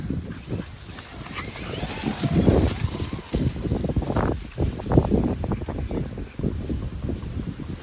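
Strong wind roars and buffets the microphone outdoors while an RC car is being driven, a constant loud rumble that swells and gusts throughout, with brief voices.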